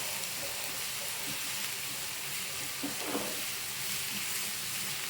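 Onions sauté on a medium flame in a pan for egg thokku, giving a steady close hiss and sizzle with faint stirring scrapes and no talk over it.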